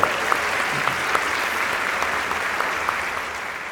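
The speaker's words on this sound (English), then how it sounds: "So I think you get the first round of applause here today." A large audience gives a round of applause, broad and continuous hand clapping at an even level with a few sharper individual claps standing out.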